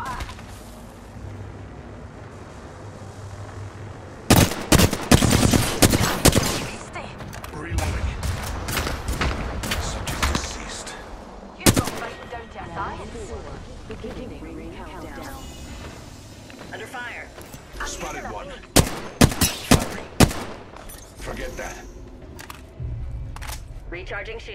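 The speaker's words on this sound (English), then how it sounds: "Being shot at." Gunfire in a shooter video game, bursts of rapid shots in clusters separated by quieter stretches, with a voice talking over the action.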